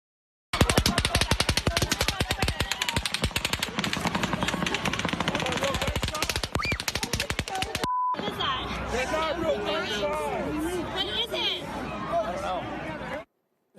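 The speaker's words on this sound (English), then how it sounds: "Take a listen to how heavy that barrage of gunfire was from the sole shooter firing down on that crowd that night." Heavy rapid-fire automatic gunfire from the Las Vegas mass shooting, a lone shooter firing down on a concert crowd, sounding as long dense bursts of shots that stop abruptly, then give way to panicked crowd noise and shouting.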